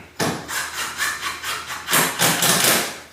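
A screw is driven into a wooden frame through pegboard, giving a series of rhythmic grinding, rasping pulses close up, growing louder toward the end.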